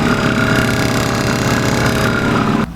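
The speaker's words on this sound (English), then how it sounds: "You guys can hear that compressor running too." A compressor runs under a car's hood, a loud, steady mechanical drone with a rapid pulsing throb that holds evenly and then drops off abruptly near the end.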